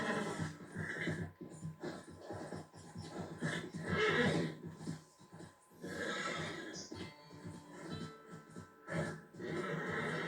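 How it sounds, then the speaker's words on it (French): A horse in the Red Dead Redemption video game neighs and whinnies repeatedly, with snorts and hoof clatter between the calls, loud and close over several seconds. "Oui, oui, c'est bon, j'ai calmé le cheval."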